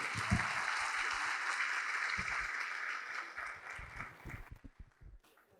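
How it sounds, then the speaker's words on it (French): Applause rises to welcome the president of the International University of Rabat at a master's diploma ceremony, a steady crowd clapping that thins into scattered, separate claps before fading out. "nous vous invitons à accueillir sous vos applaudissements Monsieur Nordin Moueddi, président de l'Université internationale de Rabat"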